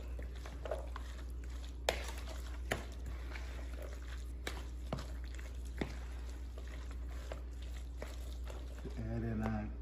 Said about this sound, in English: Now we'll mix that up.